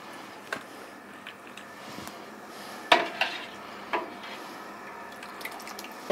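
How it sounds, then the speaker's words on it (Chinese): Braised pork belly, a 15-pound batch, is ladled out of a wok: metal scraping and clinking of utensils against the pan, with a few louder knocks among quiet wet stirring sounds and no speech. "已经好了，咱们现在开始出锅。"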